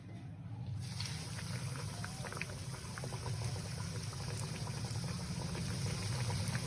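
Coated chicken pieces fry in hot oil with a dense, even crackle like steady light rain, held at a constant level throughout, close and without speech.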